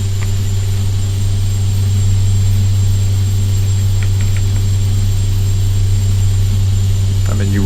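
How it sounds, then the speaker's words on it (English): A Carenado B200 King Air in X-Plane 10 taxis far too fast, its turboprop engines giving off a loud, steady hum with a strong low tone and a thin high whine. A voice talks over it. "It's quite a nice aircraft, and we're going way too fast for taxiing"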